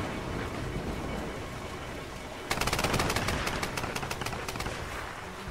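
Rapid bursts of automatic gunfire from a Tomb Raider multiplayer match, a 4-versus-4 online game, erupt halfway through after quieter ambient game noise, loud and sustained with sharp repeated cracks.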